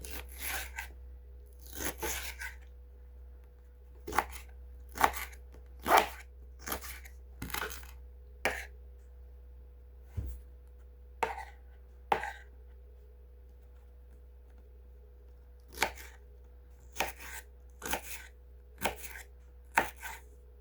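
A knife chops garlic and other ingredients on a board while tomato and eggs are prepared, giving sharp, crisp strikes in short bursts and single hits with pauses between them, close and fairly loud, and no one talks over it.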